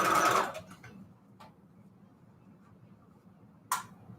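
A sewing machine stitching bedsheet ruffles and pleats, with a dense, loud burst of rapid mechanical chatter at the start, then a few isolated clicks and a short final whir near the end.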